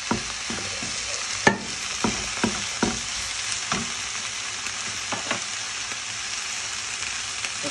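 Vegetables and spinach stir-fried in a pan, with a steady close sizzle broken by irregular scraping and clacking strokes as the food is tossed, one sharper knock standing out.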